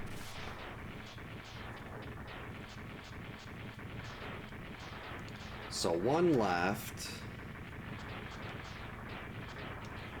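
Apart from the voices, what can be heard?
explosions in the video game Mega Man X3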